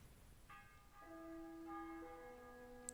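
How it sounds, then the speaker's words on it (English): Church bells ring out in the medieval game Kingdom Come Deliverance, several clear sustained tones entering one after another and layering into a steady, moderately distant peal, with no voices. "Okay, I hear the bells."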